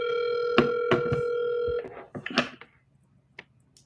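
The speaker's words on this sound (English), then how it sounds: "Please just let me make a phone call." A telephone dial tone holds steady for nearly two seconds, then breaks into a quick series of dialing beeps and clicks, with faint handling noise trailing off.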